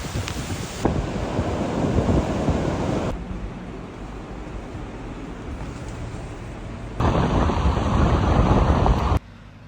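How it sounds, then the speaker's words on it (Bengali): Stormy sea at Cox's Bazar during Cyclone Remal, a loud continuous roar of crashing surf mixed with heavy wind buffeting, surging louder in stretches and dropping back, with no voices. "আসুন ভিডিওর শুরুতে আমরা ঘূর্ণিঝড়ে সমুদ্রের ভয়ানক শব্দ শুনি"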